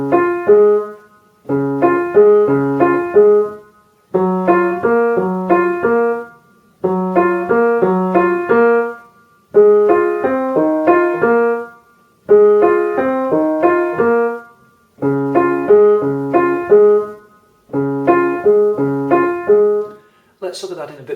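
Piano playing the instrumental intro of a song, heard alone, with repeated rhythmic chord phrases in regular bars at moderate volume.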